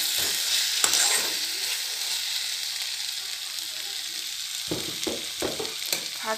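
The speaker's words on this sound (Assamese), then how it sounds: "এনেকৈ ভাজি চয়াবিনখিনি ঢালি দিলোঁ" Soybean chunks fry in a hot pan with constant close sizzling, while a spoon scrapes and stirs them in several brief clattering strokes near the start and again toward the end.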